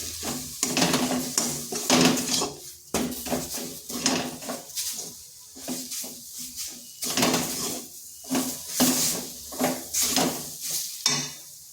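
Gram flour is stirred into cauliflower stems in a pan over low heat, giving rhythmic scraping and stirring strokes with light sizzling and occasional utensil clinks, close and fairly loud.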